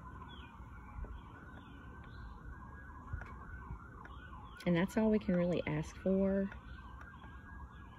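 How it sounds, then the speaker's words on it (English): Emergency vehicle sirens sound in the background, a wailing tone with a burst of loud, choppy horn-like blasts midway, while someone speaks nearby. "there's all these sirens in the background"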